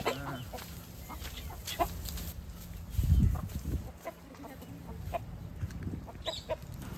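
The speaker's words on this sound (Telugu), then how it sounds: "ఇప్పుడు కోడి పందాలు చూపెడతాను చూడండి మీకు" Fighting roosters at a cockfight cluck and squawk in short bursts, with one louder scuffling flurry midway; several birds nearby amid low background noise.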